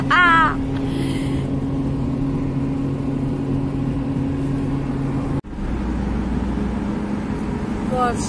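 A steady vehicle engine drones continuously from inside the cabin, a low constant hum with brief voices at the start and end.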